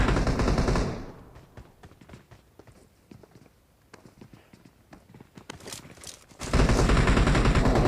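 Gunfire in a battle royale video game: bursts of sharp shots and rapid clicking pops in a firefight, loud at the start and end with a quieter stretch of scattered shots between.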